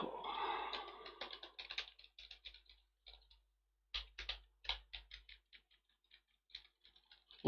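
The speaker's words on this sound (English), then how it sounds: "I am typing but it is not appearing." Sparse keyboard clicks from typing on a computer keyboard, a few scattered taps and short bursts separated by long silent gaps, faint and close, ending in a sudden louder knock.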